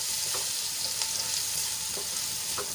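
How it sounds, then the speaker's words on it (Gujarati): Chopped onions sautéing in hot oil in a pan, a steady, close sizzle running throughout with a few soft stirring scrapes rising through it. "હવે ડુંગળીને આપણે ગુલાબી રંગની થાય ત્યાં સુધી સાંતળી લેવાની છે"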